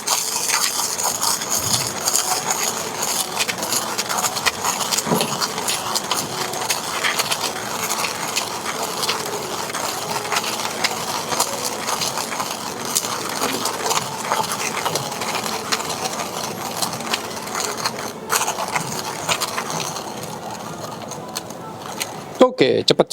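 A 1Zpresso ZP6 hand coffee grinder crunches beans in a continuous close gritty crackle, with a speaking voice heard over it.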